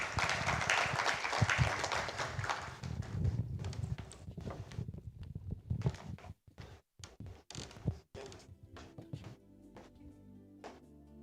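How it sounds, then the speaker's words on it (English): Audience applause closes a morning panel session at a university industry conference: dense, crowded clapping for about six seconds, then thinning into scattered individual claps that fade out. "kindly help me applaud them."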